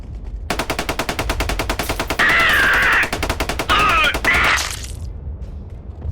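Rapid bolter gunfire from a Kill Team tabletop battle between Space Marines and Death Korps of Krieg, a dense mechanical burst of evenly spaced shots lasting several seconds, loud and close with heavier crackling blasts midway before cutting off.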